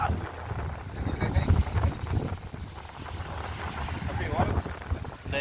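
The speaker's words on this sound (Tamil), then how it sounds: "சரியான காற்றடிக்குது" Strong wind buffets the microphone in a constant roar at a beach in Palermo, with a low rumble of surf beneath.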